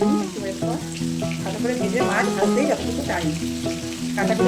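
Pieces of bhetki fish fry in hot oil in a pan, giving a steady, close, crackling sizzle with occasional stirring. Someone speaks throughout over the frying.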